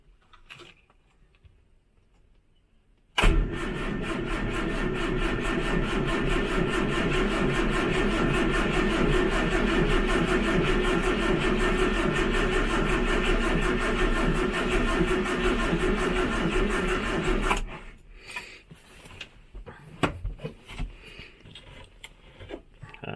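A 1968 Morris Minor 1000 engine turned over without choke: a few seconds of near quiet, then a long steady whirring cranking for about fourteen seconds before it stops abruptly, followed by faint clicks and rattles.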